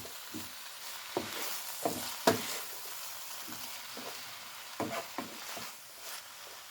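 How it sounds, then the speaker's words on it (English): Kerrygold butter is stirred into cabbage leaves frying in a pan, making a quiet sizzle with scattered soft spoon clicks and scrapes at an irregular pace. No one talks. "I'm just going to mix the butter in there."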